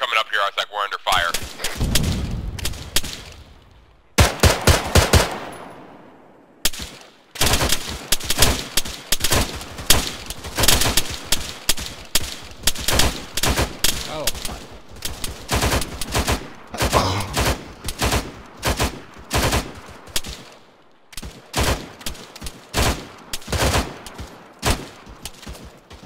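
Arma 3 airfield defense gunfire: rapid, loud bursts of rifle and machine-gun shots crack in dense volleys throughout, with brief pauses, as players call out over the combat.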